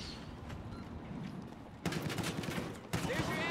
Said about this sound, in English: I'm getting shot at, but somewhere.